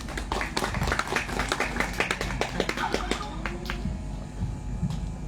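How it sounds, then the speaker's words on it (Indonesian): A small audience at a religious study gathering claps in a short, uneven burst of distinct hand claps over a low hum, and the clapping thins out into a few scattered claps and quiet murmuring. "Oh, kasih tepuk tangan."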